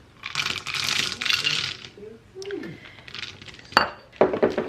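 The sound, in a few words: frozen cranberries scooped into a pie dish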